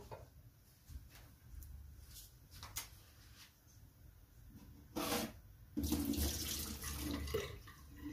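Water is poured into a cooking pot (handi) set on a stove, ready for half-boiling mixed vegetables: potato, peas, carrot and cauliflower. Soft splashing comes in bursts and turns into a louder, steady pour toward the end. No one speaks.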